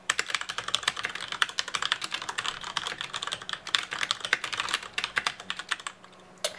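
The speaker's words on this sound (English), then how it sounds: "give you a little demo of what it sounds like to type on a mechanical keyboard" Rapid, crisp clicking keystrokes on a Corsair K90 mechanical keyboard, typed continuously and close up in a quiet room with no talking, tapering off near the end.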